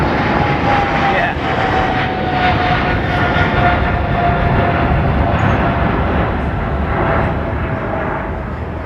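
An American Airlines jet at London Heathrow Airport fills the air with a loud, steady engine roar that holds for the full length, a broad, even rumble with a faint whine riding above it.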